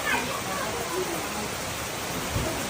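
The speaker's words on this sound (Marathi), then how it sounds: "अरे बाप याला म्हणायचा पाऊस एवढा मोठा पाऊस" Steady, dense rain pours down as a continuous hiss, with a faint voice briefly audible beneath it.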